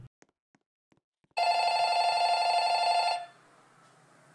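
A telephone rings in the Roblox horror game Light Bulb, one loud continuous electronic ring that cuts off abruptly after faint scattered clicks in near silence.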